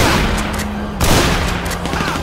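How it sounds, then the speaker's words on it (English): Rapid overlapping gunfire from several shooters in a GTA 5 police shootout, dense crackling bursts continuing steadily with a sharp jump in loudness midway, with no talk. "it sounds like we have multiple multiple people shooting"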